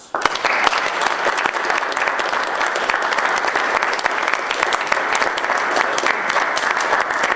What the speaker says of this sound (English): they usually burst into spontaneous